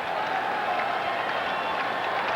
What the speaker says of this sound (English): this crowd's a lot more lively than they were last